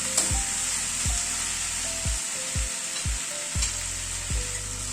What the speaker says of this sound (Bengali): চিনিটা দিয়ে একটু নাড়াচাড়া করে নিলাম